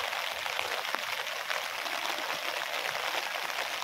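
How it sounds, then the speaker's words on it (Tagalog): Floodwater spills over onto a village road beside an unfinished flood-control embankment, giving a steady, moderately faint rushing and pouring wash with no talk. "Umapaw lang yung tubig"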